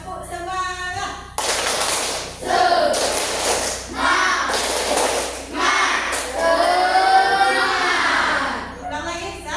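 A class doing the tepuk semangat clap chant, bursts of rhythmic group clapping alternating with children's chanting voices, loud and close in a classroom.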